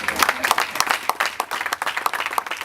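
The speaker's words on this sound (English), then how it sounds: "I'm surprised only one person is clapping" Scattered clapping from an audience at a Lagos public lecture, irregular sharp claps of fairly close hands, uneven and sparse rather than a full ovation.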